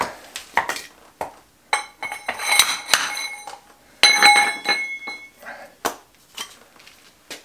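Metal hammer strikes ring out on heavily rusted, seized ball bearings being removed from the axle of a Turfco sand spreader, a series of sharp clanking blows with metallic ringing, uneven in rhythm and close up.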